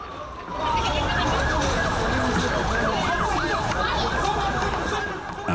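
Ambulance and police sirens arriving at the scene of a suicide attack near the Blue Mosque in Turkey, several wailing sirens overlapping loudly and continuously over street noise.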